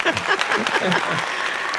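A crowd gives a brief burst of applause with dense clapping for a few seconds after a project presentation at a gathering.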